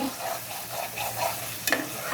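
Beef tripe frying in a pan in a home kitchen, a continuous close sizzle with soft stirring scrapes and a sharper clatter toward the end.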